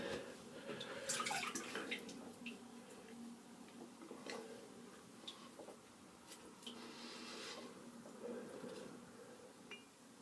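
Water splashing and dripping at a basin as a face is rinsed after a wet shave with a FaTip Grande safety razor, steady soft sloshing with faint ticking drips, fairly quiet and close.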